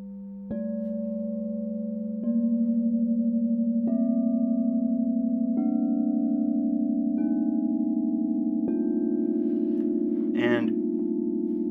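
Aquarius set of crystal singing bowls struck one after another in order from the lowest note, each new bowl entering at a steady interval and layering its long, pure ringing tone over the others; a brief rustle comes near the end.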